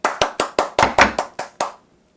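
Nine sharp hand claps land in a quick, fairly even rhythm, close by and alone. The final clap is followed by a short decay into silence.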